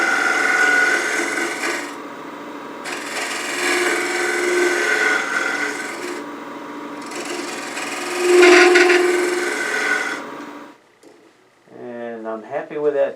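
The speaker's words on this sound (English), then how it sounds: "So I'm going to use this negative rake scraper and just kind of clean up the walls" Negative rake scraper drawn with light pressure around the walls of a cherry burl kuksa, giving a steady rasping scrape in repeated strokes for about ten seconds, then stopping as a voice begins speaking.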